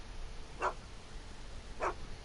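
Einstein, the dog in the Back to the Future game, gives two short, clear barks about a second apart over a quiet background hum, with no talking.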